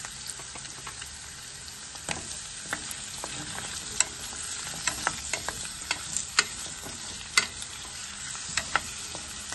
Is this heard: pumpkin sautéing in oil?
yes